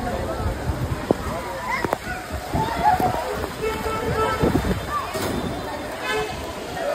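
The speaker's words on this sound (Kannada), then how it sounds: "ಸೊ ಗೈಸ್ ಫೈನಲಿ ಮಳೆ ಬಂತು" Steady rain falls outdoors, a continuous hiss and patter with occasional splashes, while people talk over it throughout.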